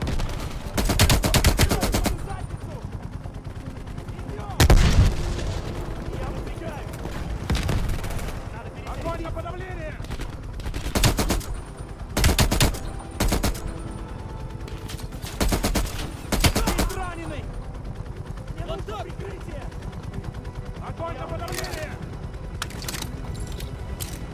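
Call of Duty: Black Ops Cold War gunfire rattles in repeated bursts, some long automatic volleys and some short clusters of shots, loud and close against background game noise, with someone talking between bursts.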